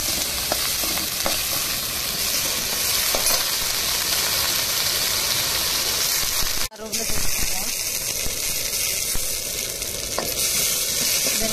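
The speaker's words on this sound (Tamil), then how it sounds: "வெங்காயமும் பூண்டும் நல்லா வதங்கட்டும்." Onions and garlic sizzle steadily in a hot pan, with a brief stir or scrape partway through and the frying hiss continuing close up.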